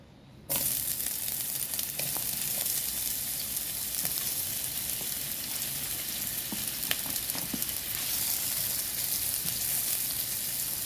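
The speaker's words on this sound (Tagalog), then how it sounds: "So, kunting fry lang sa hotdog para bumango." Hotdogs fry in a hot pan with a steady, close sizzle that starts abruptly and crackles on without pause, dotted with small pops and spits.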